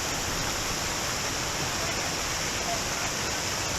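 Waterfall on Dismal Creek in the Ozark National Forest, a steady, loud, broadband rush of falling water filling the whole stretch without pause.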